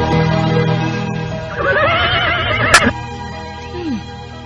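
A horse neighs in a long, loud whinny that rises and falls, followed by a faint snort, with no one speaking.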